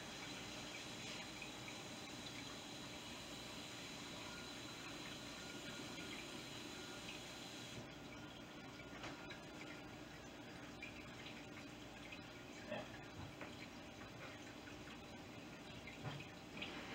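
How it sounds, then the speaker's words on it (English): Tap water runs steadily into a rock tumbler barrel, a soft, even hiss and trickle heard faintly and alone, with a slight change in tone partway through as the barrel fills. "I'm gonna go fill this up with water so it doesn't dry on me."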